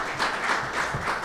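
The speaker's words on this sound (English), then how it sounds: "You may applaud." An audience applauds at an Urban Land Institute presentation about Fremont, a steady wash of many hands clapping that holds evenly through the whole short moment.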